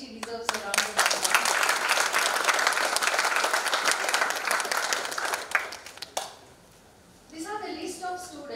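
Audience at a college annual day in Goa bursts into sustained applause, dense clapping lasting about six seconds before cutting off, then a brief return of voices and scattered claps near the end.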